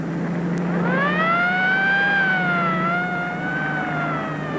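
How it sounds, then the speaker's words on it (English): A 1930s police car siren rising into a wailing tone, holding, then dipping slightly, loud and fairly close over a low engine drone. "That's a police siren in any language."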